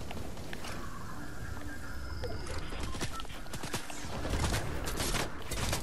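Gunfire in Fortnite rattles off in quick bursts of sharp cracks and fusillades, some close and loud and others thinner, over a busy background of game noise.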